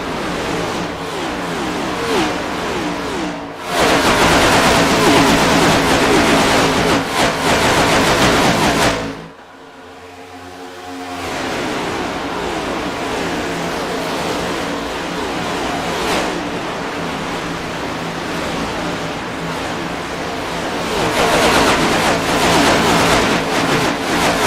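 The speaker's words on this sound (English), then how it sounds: "you get a long single file line of cars and it's just constant" NASCAR Cup Series race cars stream past in a long single-file line, a loud, constant roar of engines that swells and fades continuously with a brief drop in the middle, heard close to the track.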